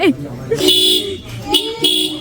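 A child's ride-on toy bike horn tooting in several short bursts, close and fairly loud, alternating with people talking nearby.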